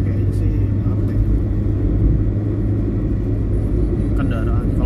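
Heavy palm oil fruit trucks roll along a smooth village road in Sakabulin, Kotawaringin Barat, making a continuous low rumble that stays steady throughout, with a voice talking over it.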